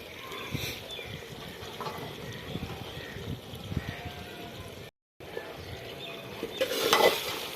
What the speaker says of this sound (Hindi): अब इस मौके पे अंडे हैं मेरे पास, ये शामिल करने लगे हैं